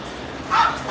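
A dog at a pet shop yips once, brief and fairly loud, with a second whine-like bark starting at the end and no talk over it.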